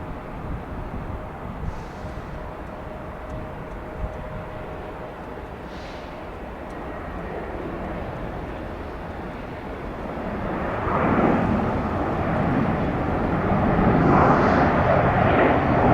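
A jet landing on runway 3 right at Detroit Metro Airport, a steady distant rumble that swells louder toward the end as the aircraft approaches and touches down, with no voices.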